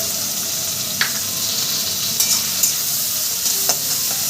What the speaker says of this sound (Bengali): এবারে এর মধ্যে আমি দিয়ে দেবো পেঁয়াজ কুচিটা